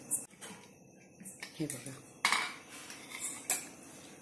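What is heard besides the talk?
opening pressure cooker and handling cooked ghee rice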